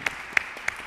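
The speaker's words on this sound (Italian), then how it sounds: "Prima gli facciamo un applauso però." Audience applause at an Italian art talk, a soft, sparse patter of clapping in a hall with a few sharper individual claps standing out at regular intervals over a steady murmur.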